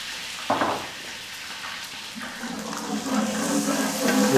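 Ginger, garlic and green chillies frying in a large pan for dalcha, a moderate sizzle with a couple of stirring scrapes and a faint clatter, rising slightly toward the end.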